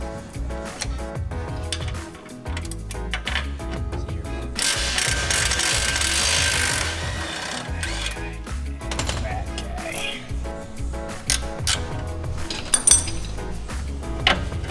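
A ratchet wrench clicks steadily while loosening the 13 mm sway bar end link bolts on the rear of an Audi A3, S3 or RS3, with metallic clinks and brief pauses. There is occasional talk in the background.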